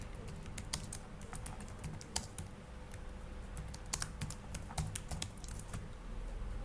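Computer keyboard typing, quick irregular key taps close up but faint, over a steady low background hum.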